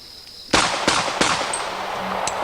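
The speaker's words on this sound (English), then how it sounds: "We're shooting a standard generic 45 ACP 230 grain load here" Three sharp gunshots from a .45 ACP pistol firing standard 230 grain loads, close and loud, spaced roughly a third of a second apart, each with a short ringing tail.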